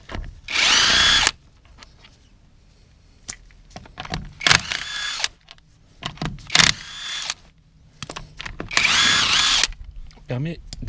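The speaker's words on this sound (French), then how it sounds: "J'utilise toujours la clé à choc" An impact wrench loosens wheel bolts on a Peugeot 205 Roland Garros, firing in several loud, close bursts of rattling hammering separated by pauses with clanks of tools and handling, while someone speaks briefly near the end.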